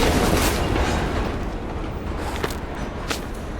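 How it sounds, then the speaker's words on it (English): A train in the video game Call of Duty Black Ops Cold War slows down, giving off a loud, continuous rolling rumble with faint rhythmic clicks and no talk. "Train's slowing down."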